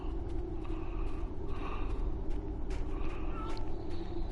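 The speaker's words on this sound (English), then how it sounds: "I hear ya, kitty kitty." A cat meows a few times in short calls over a dense rumbling ambient background in the game Neverwinter Nights, moderately loud and set against constant low noise.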